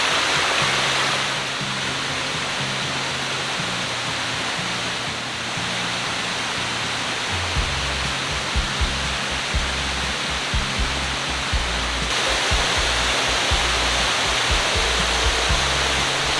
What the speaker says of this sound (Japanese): ここは本当に水が豊かで、こういったね滝とかもあるので